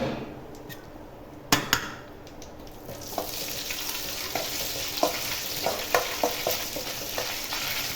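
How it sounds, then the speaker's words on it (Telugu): Grated coconut drops into hot oil and fries with a steady sizzle that builds after a quiet start. Sharp utensil knocks and stirring clinks recur close by, with no voices. "ఆయిల్ హీట్ అయిన తర్వాత కొబ్బరి వేసుకోవాలండి. తురుముకున్న కొబ్బరి వేసుకోవాలి,"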